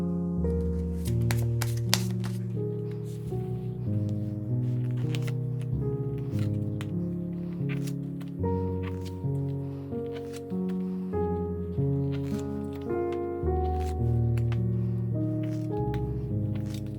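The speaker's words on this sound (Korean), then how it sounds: "제가 이제 카드 섞고 나면" Tarot cards are shuffled by hand in soft, quick riffles and taps that run under steady, melodic background music throughout.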